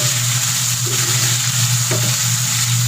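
Pork binagoongan with shrimp paste sizzling steadily in a hot pan, with a spoon stirring through the meat now and then; close, continuous frying hiss with no talking.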